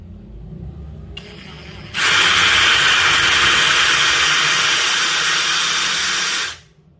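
A FLEX FX1351 cordless power tool spins up to full trigger with a loud, steady high-pitched whine and hiss that holds for several seconds, then cuts off.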